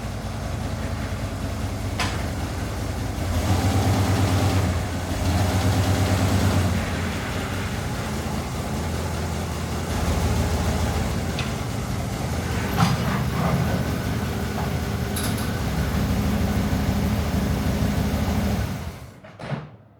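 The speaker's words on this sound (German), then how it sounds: "Starten wir den Hauler." A Hauler engine with a High Energy Ignition distributor, not run for several days, idles with a steady, loud low-pitched rumble close by, then cuts out near the end. No talk.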